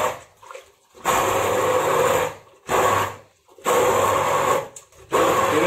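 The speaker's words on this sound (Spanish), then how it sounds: "Y ahora vamos a triturar todo esto." A blender purees a chickpea cheese mixture seasoned with salt into a smooth, creamy paste, running in three loud, steady whirring bursts separated by short pauses.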